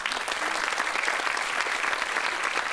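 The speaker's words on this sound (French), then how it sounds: "On peut l'applaudir très fort encore, s'il vous plaît." A seated audience at a French talk on menopause gives strong applause for a speaker, a short burst of dense, even clapping throughout.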